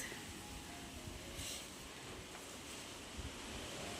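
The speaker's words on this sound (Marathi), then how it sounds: "आज वाऱ्याला काय झालं खूप वारा सुटला आज" Strong wind blowing outdoors near a home, a steady broad rushing roar with gusty swells and microphone buffeting, no voices.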